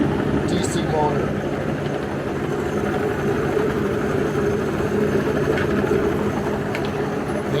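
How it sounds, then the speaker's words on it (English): A Yae Tek 1/3 horsepower DC motor drives a homemade rock tumbler with a 12-pound Lorton barrel and a 3-pound Tumblebee barrel, giving a steady low mechanical hum with faint tumbling rattle, continuous and close throughout. "No, it's a 1/3 horsepower DC motor."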